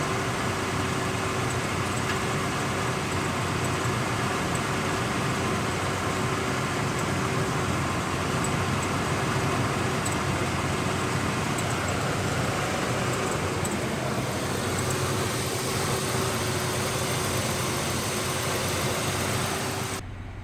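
A truck engine idling steadily for a long stretch, a constant close, even rumble with a low hum and no speech.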